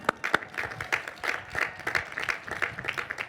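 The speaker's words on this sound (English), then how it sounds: "That's something we should all give a round of applause." Audience applause at a high school graduation ceremony, a steady patter of many hands clapping throughout, moderately loud and fairly close, with no talking over it.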